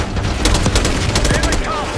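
Dense gunfire in a Call of Duty Black Ops 6 cutscene, a loud, continuous fusillade of rapid shots and bursts crowding the whole moment.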